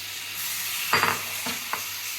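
Cleaned chicken goes into fried masala for Chettinad chicken, a steady close hiss of sizzling broken by a couple of short bursts of stirring or pieces landing in the pan.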